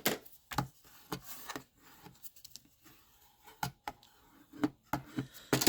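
A fold in a paper card is burnished with short, dry scraping and rubbing strokes, in quiet, close bursts with pauses between them.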